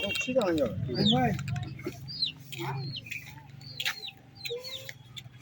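Native village chickens cluck and chirp repeatedly nearby in a rural village in Birbhum, West Bengal, mixing with other bird calls, with a low murmur of voices underneath.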